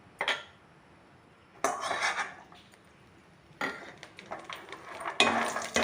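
Makhana (fox nuts) tossed in ghee in a pan: three bursts of scraping and clinking against the pan, each a second or so long, separated by quiet gaps, fairly close and moderately loud.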